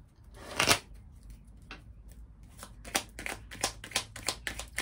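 Tarot cards being picked up and shuffled close by, a loud riffling burst followed by a run of quick papery flicks and slaps, with no speech.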